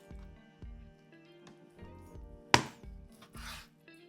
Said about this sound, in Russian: Мясо нарезаем максимально тонко.